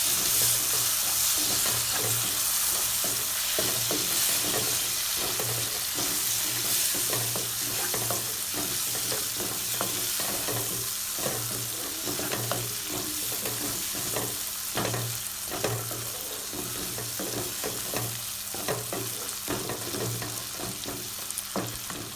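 Tomato frying with masala for potato kurma, sizzling steadily while a spoon stirs and scrapes the pan in repeated strokes, close and continuous with no talk.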